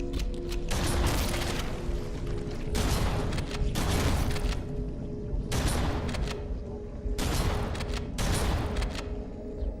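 Shotgun gunfire in the video game Halo: Combat Evolved comes in loud, repeated broadband blasts, grouped into several heavy clusters over about ten seconds, with mechanical clatter between them.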